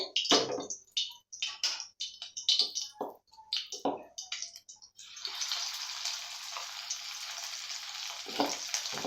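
Capsicum chilli chicken pieces dropped into hot oil: a string of separate splashing crackles and clinks at first, then a loud continuous close sizzle as the pieces fry, no talking.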